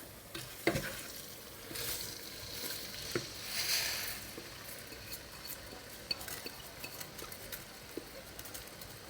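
Spoon stirring rice cooking in a pot, soft scraping and light clinks with a gentle bubbling hiss underneath, fairly quiet and steady.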